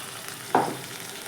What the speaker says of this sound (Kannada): ಸ್ವಲ್ಪ ಒಗ್ಗರಣೆ ಕೊಡ್ತೀನಿ ಇದಾಗಿಂದ ಒಗ್ಗರಣೆ ಕೊಡ್ತೀನಿ